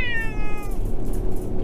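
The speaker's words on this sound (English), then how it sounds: "Meow. What's up, Henry?" A cat meows once with a drawn-out, falling cry that fades into quiet room noise, close and clear with no one speaking.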